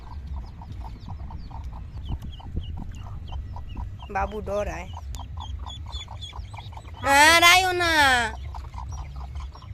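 A mother hen with newly hatched chicks clucks in a steady, rhythmic series of soft pulses, broken by a couple of louder drawn-out squawks, while people talk nearby.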